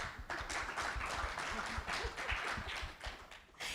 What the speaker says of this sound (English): Let's give Nayla and Elena a big round of applause.